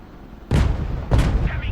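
M1A2 tanks fire their main guns at enemy Armata tanks in the video game Broken Arrow. Two loud, close cannon blasts land about half a second apart, each followed by a rumbling tail.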